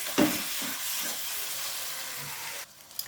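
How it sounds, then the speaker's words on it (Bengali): Spices and salt stir-fried in a pan for a loitta (Bombay duck) fish dish: a steady hiss and sizzle with a sharp utensil clink near the start, cutting off abruptly before a few soft knocks at the end. "লবণটা দিয়ে ভালোভাবে কষাতে হবে।"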